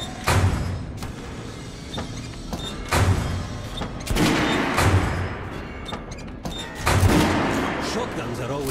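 Guns test-fired on a weapons range in Metro: Last Light, several loud shots and heavy thuds spaced irregularly with echoing tails, a voice talking between the bursts.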